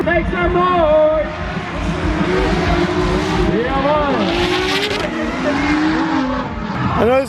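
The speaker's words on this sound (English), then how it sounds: "I know there's a lot of drifting going on" Drift cars at a Drift Allstars Germany event revving hard and sliding, with a continuous loud engine roar that swoops up and down in pitch and a busy crowd hubbub underneath.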